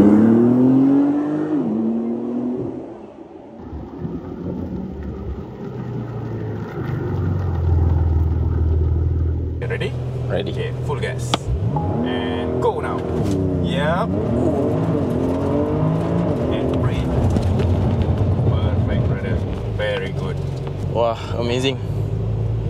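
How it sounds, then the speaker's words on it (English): A Porsche 911 Turbo S on a test track during a demonstration drive: engine rumble builds into strong rising acceleration sweeps heard from inside, with people talking and exclaiming over the engine. "We are going to have a demonstration with the 911 Turbo S."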